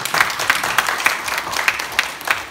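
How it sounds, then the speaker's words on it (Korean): Congregation clapping at a Wednesday noon church prayer meeting, a steady, dense round of applause with sharp bursts of claps throughout, fairly close and loud, no voices over it. "우리 주님께 한번 박수 한번 하시겠습니다"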